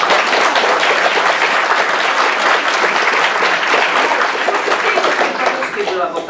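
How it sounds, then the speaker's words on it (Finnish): Dense, sustained applause from an audience at a film festival discussion event, loud and continuous throughout with steady massed clapping that thins slightly near the end. "Otetaan aplodit suomeksi."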